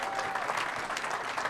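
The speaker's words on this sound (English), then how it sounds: "Let's give them a big round of applause tonight." Brief burst of audience applause at an evening filmmaker Q&A, dense and even clapping from a crowd heard at moderate distance.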